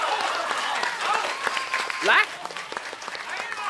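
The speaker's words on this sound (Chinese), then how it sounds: "咱大伙儿咱鼓鼓掌" An audience at a Deyunshe crosstalk show in the Sanlitun theatre claps in scattered, brisk bursts. A performer's voice keeps talking over the applause.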